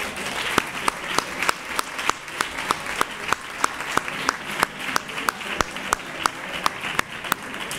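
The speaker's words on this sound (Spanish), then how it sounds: "Un aplauso." A crowd applauds at the 2024 Three Kings proclamation event in Nerva, Spain, with many hands clapping steadily and densely for the whole stretch, broken by sharp individual claps, fairly close and with no talking over it.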